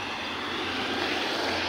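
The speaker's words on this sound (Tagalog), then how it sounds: "Magpapalipad tayo ng drone." A drone takes off and hovers near a damaged road in a hilly rural area, giving a steady, loud, continuous motor whine and rushing drone that holds for about two seconds, with a brief bump right at the end.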